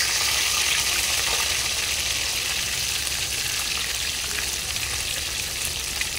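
Dhoma fish fries in a pan with a loud, continuous sizzle of hot oil that stays even and close throughout, with no voices over it.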